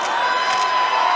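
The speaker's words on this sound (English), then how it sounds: "The crowd cheered their brains out." Studio audience cheering and shouting on The Price is Right game show, a steady, dense wall of crowd noise lasting the whole moment with no single voice standing out.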